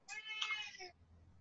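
A house cat gives a single clear meow, bright and drawn out for nearly a second before trailing off, fairly faint against a quiet room with no talking.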